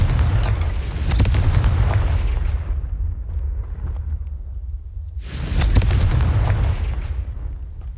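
Two heavy booming blasts from the Confringo fire spell in Hogwarts Legacy, each a loud burst that rumbles and decays over a few seconds, the second arriving after a pause.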